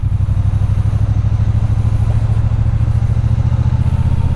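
A Triumph Bonneville T120 motorcycle engine on a night ride, a steady loud low throbbing drone with a regular pulsing beat, held at moderate revs without pause.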